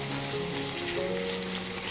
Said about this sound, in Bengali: দিয়ে দিচ্ছি একটু নেড়ে চেড়ে মিশিয়ে নিব পেঁয়াজের সাথে